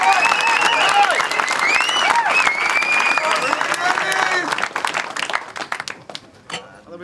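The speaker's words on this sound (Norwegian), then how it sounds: "Får vi en applaus for begge to," Loud applause from a crowd at a freestyle rap battle, mixed with cheers and whoops, gradually thinning out toward the end.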